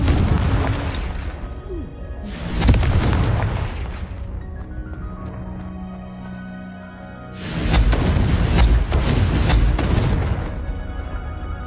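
Confringo blasting spells from Hogwarts Legacy go off as two heavy, booming explosions about five seconds apart, each with a loud crackling burst that decays slowly, close and forceful.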